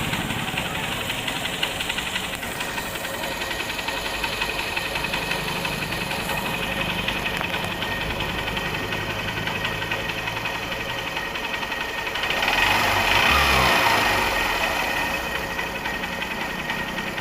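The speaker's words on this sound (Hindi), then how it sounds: "इंजन का साउंड बिल्कुल ध्यान से सुन सकते हैं" A repaired motorcycle engine with new piston parts, a bike that had white smoke and oil loss, idles steadily near the microphone, a continuous mechanical hum with a brief louder surge near the end and no talk.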